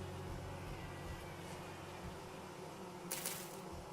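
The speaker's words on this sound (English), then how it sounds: "Just bees everywhere." Bees swarm and buzz in World of Warcraft, a steady, dense drone filling the whole stretch at even loudness, with a brief brighter flutter near the end.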